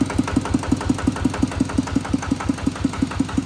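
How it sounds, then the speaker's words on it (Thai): Kubota RT90 walk-behind tractor engine idling with a fast, even single-cylinder chug and knocking beat, loud and close with no talk over it. "วันนี้มีรถไถดาเดินตามนะครับ เป็นเครื่องยนต์คูโบต้าอาร์ที90นะครับ"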